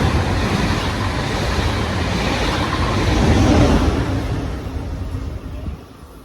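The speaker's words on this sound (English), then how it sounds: "That was a German train." A German passenger train rushes past at speed, a loud, dense rumble and roar of wheels and wind that swells in the middle and then fades as it recedes, close by with no talking.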